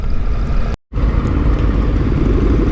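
Triumph Tiger 955i three-cylinder motorcycle engine running while riding: a loud, continuous rumbling drone mixed with wind roar, cut by one brief silent dropout.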